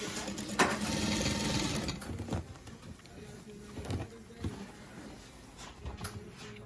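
A sewing machine runs through clothing alterations in short bursts, its rapid stitching whir starting loud and steady, then stopping and restarting several times with brief pauses and small clicks between runs.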